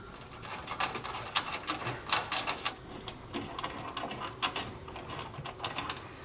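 Ratchet clicking steadily as it snugs down hardware bolts on a TowSmart trailer hitch receiver fitted to a 2024 Hyundai, with quick, fairly faint, repeated metallic clicks throughout.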